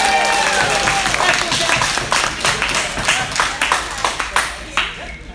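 Audience at a Power Rangers panel during Yestercon 2017 claps and applauds loudly, the dense clapping thinning into scattered claps by the end while voices talk over it.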